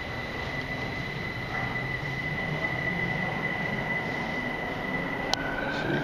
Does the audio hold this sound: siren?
no